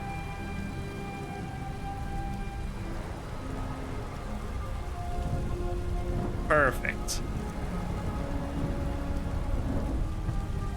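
Steady heavy rain in Skyrim hisses in the background, with a faint rumble underneath. A voice speaks briefly partway through.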